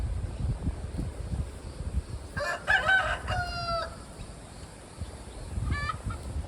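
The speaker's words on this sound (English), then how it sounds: "peace and quiet until a rooster crows." A rooster crows twice at a distance on a farm, a long rising call followed by a shorter one, over a quiet outdoor background with faint rustling.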